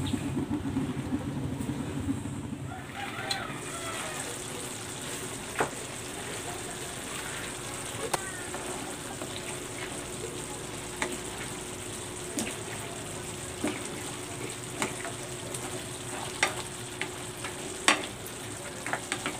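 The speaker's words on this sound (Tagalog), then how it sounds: "Tatakpan ko ito and then isimmer natin ito for 30 minutes." Pork ribs simmer in Sprite in a covered pot, giving a steady, low bubbling hiss with faint scattered pops and ticks throughout, and no voices.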